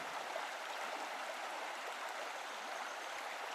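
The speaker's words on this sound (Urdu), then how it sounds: "اچانک راستے کے دونوں طرف کا پانی نیچے آ گیا۔" Rushing sea water as a cartoon sound effect, a continuous broadband roar that holds steady and fairly quiet throughout, with no talk.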